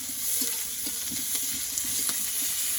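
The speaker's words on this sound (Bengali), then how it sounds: "পেঁয়াজ কুচিটা ভেজে নিয়েছে" Chopped onions sizzle in hot oil in a village kitchen, a steady close crackle with faint scattered pops and occasional stirring scrapes, no talk.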